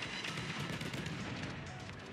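Naval guns in the World of Warships video game fire in a muffled, rumbling barrage of booms at moderate distance, heard as dull thuds mixed into ongoing game noise.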